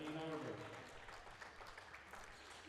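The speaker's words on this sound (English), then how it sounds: "As Christian and Miles Powell get a round of applause." Crowd applauding during a men's varsity basketball game, loud at first and then easing into a steadier, softer patter of clapping, with an announcer's voice over the top.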